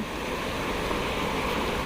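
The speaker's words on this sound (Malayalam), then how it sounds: "ഇവിടെ നിറയെ വെള്ളച്ചാട്ടവും ഉണ്ട്." A steady, dense rush of a waterfall roars without pause, broad and noisy, with no voices, in the Mankulam forest of Kerala.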